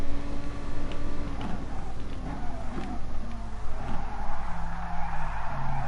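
Tires squeal and skid continuously as a car drifts in the Gran Turismo Sport racing game, during a Lamborghini Cup race, with the engine droning underneath, loud and sustained throughout.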